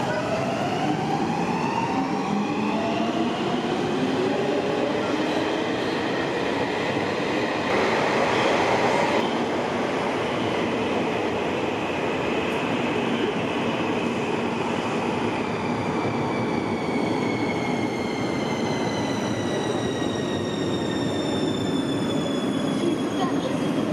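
A Länsimetro train in the Helsinki area runs with a loud rolling rumble and rising and falling electric motor whines, with a brief burst of noise partway through.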